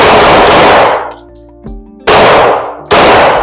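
Pistol shots from a newly tried handgun ring out at close range: one loud report at the start with a long decaying tail, then two more sharp cracks about a second apart near the end, each followed by a metallic clang.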